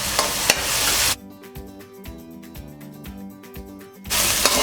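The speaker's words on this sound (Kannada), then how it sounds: "ಹಾಗೂ 1 ಚಮಚದಷ್ಟು ಶುಂಠಿ ಬೆಳ್ಳುಳ್ಳಿ ಪೇಸ್ಟ್ ಹಾಕ್ಕೊಂಡು ಈರುಳ್ಳಿ ಗೋಲ್ಡನ್ ಬ್ರೌನ್ ಕಲರ್ ಬರೋವರೆಗೂ ಅದನ್ನು ಚೆನ್ನಾಗಿ ಹುರ್ಕೋಬೇಕು" Onions fry with a spoonful of ginger garlic paste in a pan for tawa pulao, giving a loud, hissing sizzle at the start and again at the end, with a stretch of music between.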